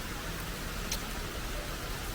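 Steady rain falls during a fishing outing at Binh Quoi in Saigon's Binh Thanh District, making an even, soft, unbroken hiss with no voices.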